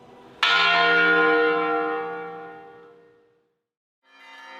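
A church bell in São João del-Rei is struck once, loud and close, its rich metallic tone ringing out and slowly fading to silence before another strike begins to sound.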